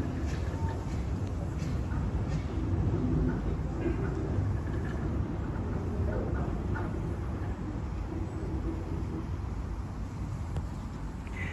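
A small engine shunting fish van wagons on a railway, a steady low rumble and rolling clatter held at an even level from start to finish without any break.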